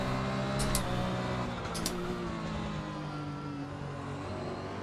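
A Porsche 911 GT1 race car's engine drones and climbs under acceleration in the Assetto Corsa racing game, a continuous steady whine heard from the cockpit with rising harmonics and two brief high clicks near the start, no talk.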